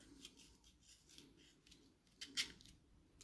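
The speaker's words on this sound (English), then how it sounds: "I'm going to take a big old part of the peel" Lemon peel being cut away with a blade for a Vesper Martini, heard as soft, close scraping strokes and a sharper slicing snip near the end.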